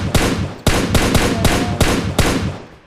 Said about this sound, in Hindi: वहाँ पे देखो गोलियाँ चल रही थी